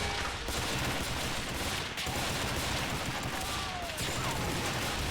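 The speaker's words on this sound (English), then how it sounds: "All standing in a giant line, shooting rifles at each other." Rifle volleys crackle in an Army Men winter field battle video game, with lines of soldiers firing at each other. The gunfire is a dense, continuous clatter of overlapping shots that sounds fairly distant and soft.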